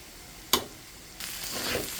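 Bitter gourd (karela) fries in fish oil: one sharp utensil clack, then a quiet pause before a soft sizzle swells up and keeps hissing to the end.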